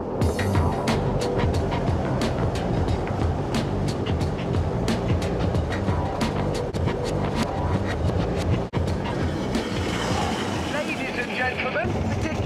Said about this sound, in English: The sports train is invincible.